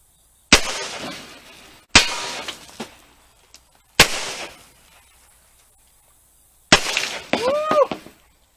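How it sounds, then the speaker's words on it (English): Loud outdoor shotgun blasts from a single-pipe shotgun, three sharp booms with decaying echoes as a glass bottle is shot, followed by a brief shout. "We'll go outside first and shoot this bottle."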